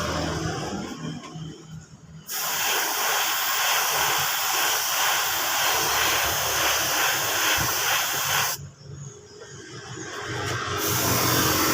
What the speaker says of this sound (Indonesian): ini kita langsung semprot saja cat dasarnya terlebih dahulu seperti ini